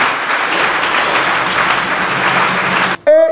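A Christmas mass congregation applauding the Christ child, a dense sustained wash of many hands clapping that cuts off abruptly near the end, where a loud tonal sound breaks in.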